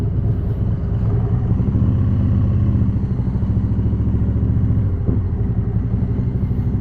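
Harley-Davidson CVO Road Glide motorcycle with a 2032 cc (124 ci) Stage IV engine, heard on the move: a loud, steady, deep rumbling exhaust pulse that holds throughout, with a brief surge near the end and no talk.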